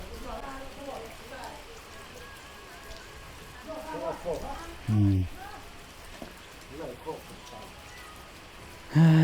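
Rain falls steadily on a rural Thai home, a soft constant patter with a few heavier knocks and taps, while people talk quietly nearby.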